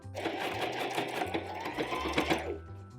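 A sewing machine stitching through thick denim for a jeans maxi skirt, its motor whirring close and loud in a fast continuous run with uneven surges, then winding down at the end.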